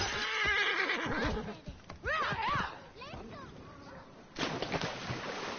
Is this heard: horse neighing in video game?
yes